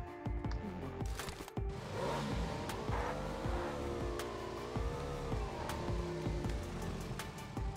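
A motorbike engine in PUBG Lite revs steadily and rises and falls in pitch as it moves, with sharp impact clicks scattered over a continuous game background.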